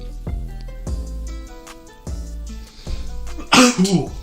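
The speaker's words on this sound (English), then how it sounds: "Sometimes you just have to sneeze, okay?" A single sharp sneeze bursts out near the end, loud and close, following a stretch of quiet background music.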